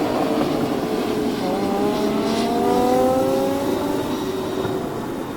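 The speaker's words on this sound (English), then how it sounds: "Oh, a car." A car passes close by in snowy outdoor surroundings near Chicago O'Hare airport, its engine note rising and then falling in a smooth Doppler sweep over steady road and wind noise, loud throughout with no talking.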